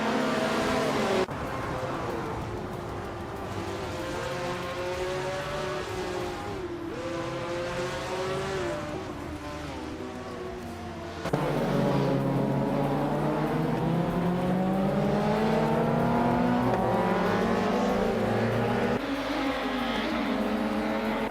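Engine of a 1982 Domar C82 race car in a video racing game, a steady sustained drone with shifting pitch as it runs in a pack, joined by other cars, growing louder and fuller midway.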